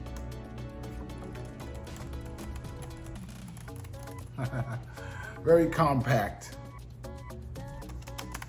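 Keys of a YEKBEE 360X iPad keyboard case click in a quick, uneven run of light taps, heard under steady close talking.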